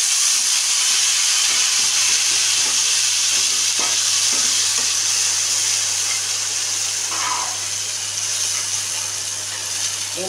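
Spice masala frying in a pan of oil where pomfret fish were just fried, a steady close sizzle with soft stirring scrapes throughout, no talking.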